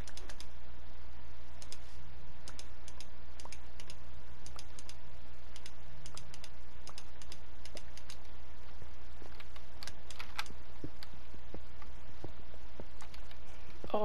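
Steady typing on a computer keyboard during a Minecraft session, with rapid irregular key clicks running throughout over a constant low hum, close and fairly quiet.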